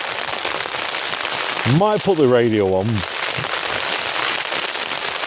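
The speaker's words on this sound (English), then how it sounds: "The rain is so loud on the tent." Heavy rain batters a tent during a wild camp on Kinder Scout in the Peak District, a dense steady roar throughout, with someone speaking briefly over it partway through.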